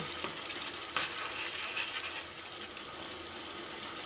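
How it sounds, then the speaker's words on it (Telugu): Curry leaves frying in hot oil for homemade pav bhaji, a steady close sizzling hiss with a few faint crackles and stirring touches, and no voice over it. "నేను దీంట్లో ఇప్పుడు కర్రీ లీవ్స్ యాడ్ చేశాను కొంచెం బాగా ఆయిల్ పైకి వచ్చే వరకు"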